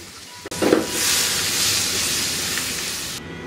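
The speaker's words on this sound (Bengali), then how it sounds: "অল্প একটু পেঁয়াজ কুচি দিয়ে সামান্য একটু ভেজে নিব।" Chopped onion hits hot oil in a pan, setting off a loud, steady sizzle that rises quickly and holds as a broad hiss for about three seconds before cutting off.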